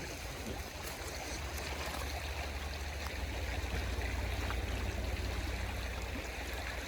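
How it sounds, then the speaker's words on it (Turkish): Teaspoon rinsed under flowing water at a caravan campsite, a continuous near splashing and trickling stream with light clinks, no talk. "Kaşığımızı suda bir yıkayalım gel."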